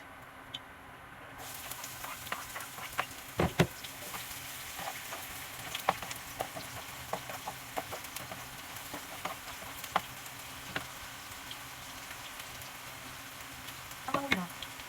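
Onions fry in hot oil in a pan, a soft continuous sizzle punctuated by scattered crackles and occasional spatula taps and scrapes, fairly quiet and close.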